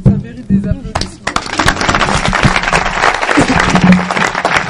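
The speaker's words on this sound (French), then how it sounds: "Ça mérite des applaudissements." An audience at a Congolese televised talk breaks into applause, a dense, rising patter of clapping with voices mixed in near the start.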